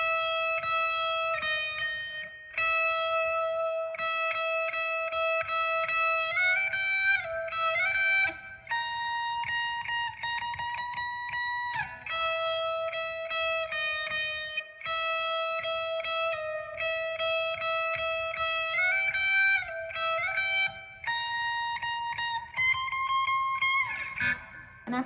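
An electric guitar plays a riff with a lightly distorted, effected tone: sustained high notes, string bends and repeated phrases ring out clearly and alone for about twenty-five seconds.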